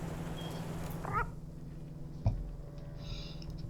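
A cat meows in the video game Wasteland 3, a single short, quiet call over a low background hum, followed by a faint click.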